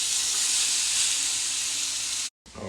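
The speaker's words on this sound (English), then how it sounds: "I'll put the shrimp there, get them cooking." Shrimp sizzling in olive oil in a pan, a dense steady hiss close and even throughout, breaking off briefly before a softer clatter at the end.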